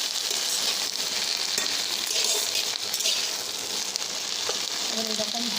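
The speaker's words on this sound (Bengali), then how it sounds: "এবার এরকমভাবে ভাজতে হবে।" Leafy greens (shaak) frying in a pan, a dense, even sizzle running throughout with faint stirring scrapes underneath.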